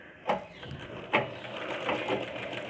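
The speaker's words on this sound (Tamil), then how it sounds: "இப்போ தைக்கிறேன்" A sewing machine stitches a blouse in short bursts, with quick mechanical needle clatter and a couple of sharper clicks, close and fairly quiet, without speech.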